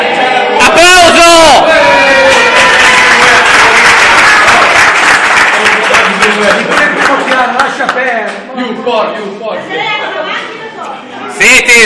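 A loud party crowd bursts into applause after a birthday song for Vincenzo, with dense clapping, cheering and excited chatter filling the room before the noise thins out near the end.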